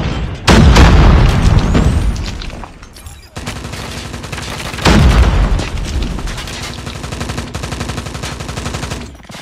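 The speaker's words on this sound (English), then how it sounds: "Grenade!" Two heavy grenade blasts boom in a Call of Duty match, each loud and close with a long rumbling tail, amid steady gunfire and battlefield noise.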